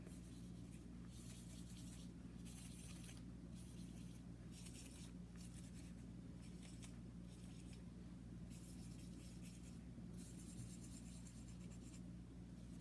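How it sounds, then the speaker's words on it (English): An eraser rubs marker dots out of a drawn tens frame in repeated short scrubbing strokes, soft and close over a steady low background hum. "I'm going to erase all of my little dots"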